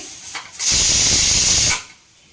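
Chicken liver with pepper roasting on a high flame gives a loud, steady hissing sizzle that swells in abruptly, holds for about a second, then drops back to a quiet background.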